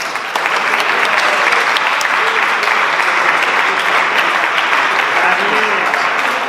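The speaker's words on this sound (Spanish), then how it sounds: "Un aplauso." Sustained audience applause at a Pint of Science talk evening in Plasencia, loud, dense and continuous, with faint voices murmuring underneath.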